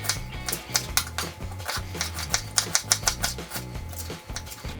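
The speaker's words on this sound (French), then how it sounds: "je vais rajouter un oignon que je vais couper en 4 puis en fines lamelles" A knife slicing an onion into thin strips on a board, giving a close series of sharp, irregular tapping cuts with brief pauses.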